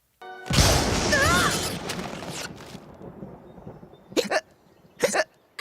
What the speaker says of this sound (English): we startled Spike into getting the hiccups!